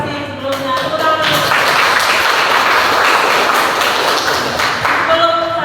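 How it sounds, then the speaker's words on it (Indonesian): Classroom applause from students after a teacher's coaching lesson, a dense broadband patter of clapping sustained and fairly loud across the whole stretch, with faint tonal ringing mixed in. "Tepuk tangan."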